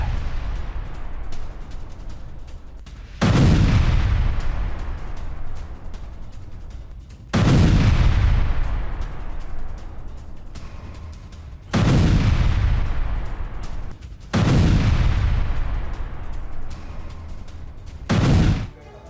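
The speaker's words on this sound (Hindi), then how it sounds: "रूसी टैंक ब्रिगेड का बारूदी एक्शन" A Russian tank brigade fires artillery in Kursk: five heavy booms at spaced intervals, each a loud blast with a long rumbling decay, under a steady background.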